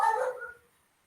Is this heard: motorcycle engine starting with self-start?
no